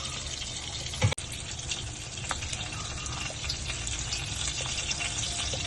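Pakoras are lowered into simmering Punjabi kadhi, a sharp splash and clunk near the start followed by a steady close sizzle and bubbling that runs on evenly without any voices.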